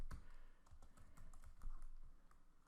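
A computer keyboard clicks in a quiet, uneven run of keystrokes while a feature name is typed into survey software, soft and near over low background hum.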